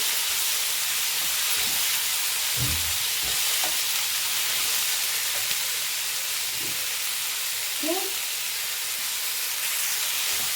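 Mint and coriander leaves fry in a curry gravy, giving a steady soft sizzle and hiss with a few faint stirring scrapes and no voices.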